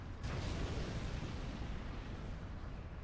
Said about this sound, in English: That nuke cannon's going to open up